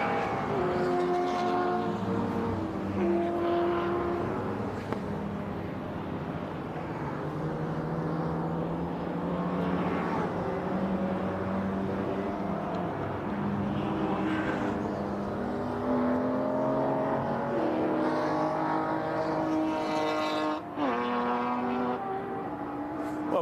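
MG race cars lap a circuit during an MG Car Club race, with a continuous engine drone that rises and falls as cars pass at middle distance, without speech.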